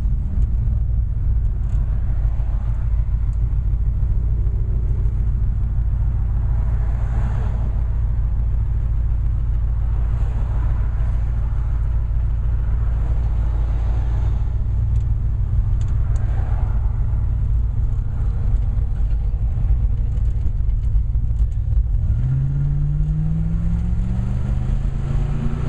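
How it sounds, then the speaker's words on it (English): A 1965 Ford Falcon heard from the cabin while driving gives a steady, loud low engine rumble and road drone throughout, with a rising rev swell near the end. "you can tell that the car has a really nice sound from inside here"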